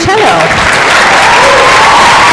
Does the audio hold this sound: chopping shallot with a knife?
no